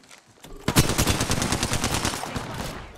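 Rapid automatic gunfire in the battle royale game Apex Legends, a burst of close, loud shots starting after a brief quiet moment and rattling steadily to the end.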